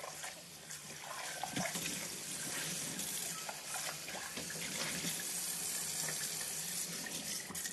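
A kitchen tap runs steadily for several seconds while a small pot is rinsed and washed under it, with a continuous splashing and hiss and no talking.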